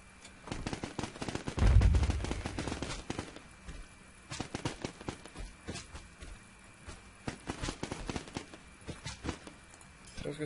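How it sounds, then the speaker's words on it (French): Machine gun fire in a video game, rapid bursts of shots coming in clusters with a louder thump early on, under a busy game soundscape with talk. "Faire 1000 points de dommage avec une mitrailleuse."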